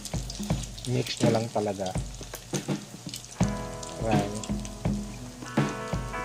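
Corned beef and beef loaf patties fry in hot oil, a close, steady crackling sizzle with popping spatters throughout while a person talks briefly over it.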